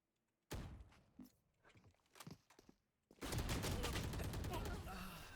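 Gunfire in a 2v2 Valorant-style skirmish match: scattered shots and thuds early, then a sustained dense burst of rapid automatic fire filling the last two seconds, close and loud, with some voices mixed in.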